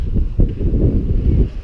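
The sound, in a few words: wind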